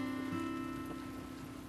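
Steady rain falls and patters on a surface through a night scene, a continuous, fairly close hiss with a low hum underneath and no talking.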